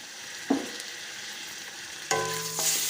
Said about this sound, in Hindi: अब हम इसमें अपना चिकन ऐड करेंगे